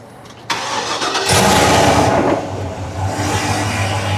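A custom-built car engine, assembled from Chevy and Dodge parts, cranks briefly and then fires into a loud, close rumbling idle, with a burst of revving right after it catches.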